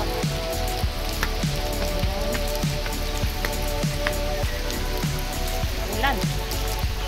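Rain patters steadily on a surface nearby, with scattered louder drips and taps over a continuous hiss and faint voices.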